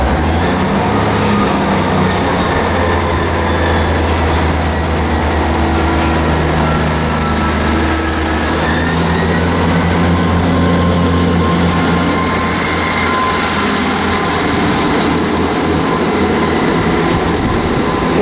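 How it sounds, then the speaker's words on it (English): A South Western Railway train at Southampton Central station rumbles loudly and steadily close by with a deep drone, rising whine and squealing wheel tones, and no talk is heard. "Now there's the 1335 South Western Railway service from Salisbury to Romsey"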